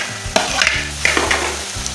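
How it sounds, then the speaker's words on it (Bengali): Fried shrimp tip into a pan of cooked-down spiced masala for a cabbage dish, and a loud sizzle follows with sharp scraping stirs and clatter close by. "এবার দিয়ে দিচ্ছি ভেজে রাখা চিংড়ি মাছগুলি,"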